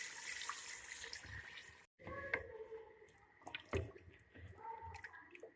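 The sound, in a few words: water being poured into a pot of beef paya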